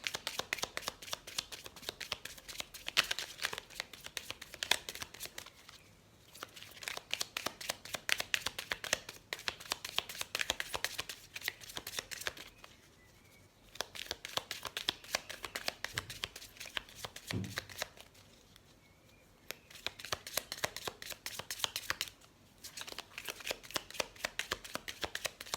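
Tarot cards being shuffled in long riffling bursts, crisp and close, separated by short pauses.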